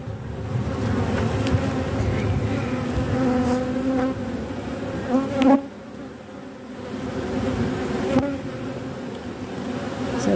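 Honeybees swarm and drone in an open hive with a new queen, a dense continuous buzz close by, briefly interrupted by a couple of soft knocks from handling the frames.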